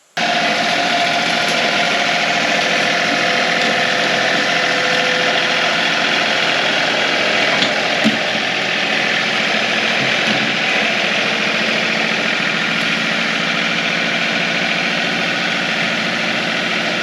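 A tractor engine idles and runs continuously during roadwork in the woods. Its steady mechanical drone with a vibrating rumble stays close and constant the whole time.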